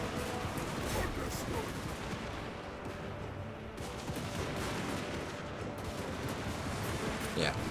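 Dwarf Thunderers in Total War: Warhammer fire massed volleys during a siege against Skaven, a dense, crackling roll of distant gunfire under a talking voice.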